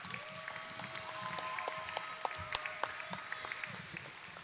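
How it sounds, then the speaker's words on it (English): Audience applause in a high school gym honoring past Winton Woods wrestling alumni, a steady patter of clapping with sharp individual claps standing out, a sustained tone and low crowd murmur underneath. "can we all get them a big round of applause real quick"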